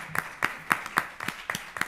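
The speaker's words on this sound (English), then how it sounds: "Applause for him." A few people clapping after a digital health keynote, sparse distinct claps in a loose, fairly regular rhythm, about seven or eight strikes in under two seconds, close and moderately loud.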